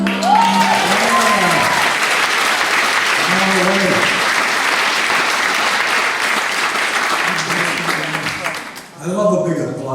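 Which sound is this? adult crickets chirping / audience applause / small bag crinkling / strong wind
audience applause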